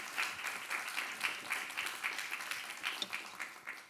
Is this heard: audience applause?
yes